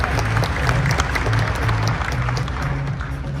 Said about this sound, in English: Big round of applause for Shivangi.